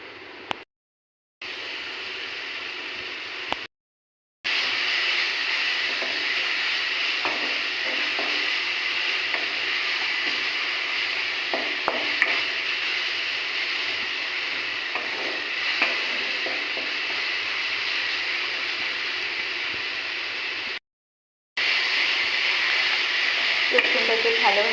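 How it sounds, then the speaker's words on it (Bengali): Garlic paste and onions fry in a pan with a loud, steady sizzle that fills the scene. Scattered scraping clicks of stirring come through, and the frying hiss is cut by short breaks. "রসুনটাকে ভালোভাবে ভেজে নেব যাতে রসুনের কাঁচা গন্ধটা কেটে যায়।"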